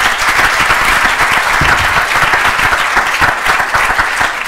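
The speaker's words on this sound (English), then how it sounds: "I like, please, people to give a big applause" An audience applauds with dense, loud, continuous clapping that stays steady throughout.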